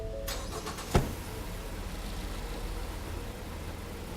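A car engine cranks and catches with a brief sharp burst near the start, then settles into a steady, even idle that carries on to the end, close by and with no voices.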